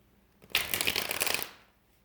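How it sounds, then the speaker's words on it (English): A deck of tarot cards is riffle-shuffled once, a quick crisp flutter lasting about a second, close and clear. "The cards need to be shuffled some more."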